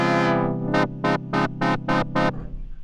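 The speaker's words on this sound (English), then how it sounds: "Let's open up the filter with aftertouch." Ableton Wavetable synth note, its filter opened by aftertouch pressure: a sustained buzzy tone followed by six rhythmic pulses as the filter sweeps open and shut, loud and close with no voices.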